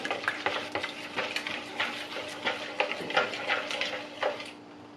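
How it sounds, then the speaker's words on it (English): Eggs for Bulgarian banitsa are whisked in a bowl, giving quick, steady rhythmic clicking and sloshing strokes up close with no talking. "you just mix them up until the yolks and whites are pretty well mixed together"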